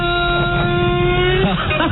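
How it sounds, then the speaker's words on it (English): A Chevrolet Caprice engine starting sound effect plays as a steady, loud motor drone with a rough rumble underneath that holds throughout. "Rob finally found the car starting sound effect."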